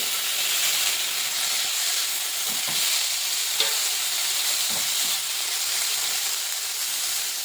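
Onions and finely chopped medium tomato sautéing in a pan for kothu dosa, a steady close hiss and sizzle that runs throughout with a few soft stirring scrapes, no voices.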